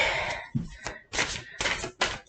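A run of quick rustling, flapping bursts in short repeated sessions, like a deck of cards being riffled and bridged, with brief pauses between shuffles.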